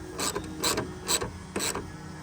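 A ratchet tightens the mirror mounting bolts on a 1999–2007 Ford F-250/F-350 truck, giving four short bursts of rapid clicking at a steady pace, close and fairly loud, with no voice over them.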